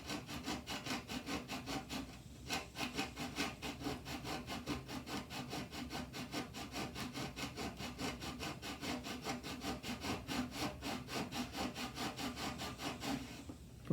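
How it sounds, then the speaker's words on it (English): A hand saw cuts steadily through the wooden neck of a Yamaha classical guitar in quick, even back-and-forth strokes, close and continuous, with a brief pause early before the rhythm resumes. "sawing the neck off"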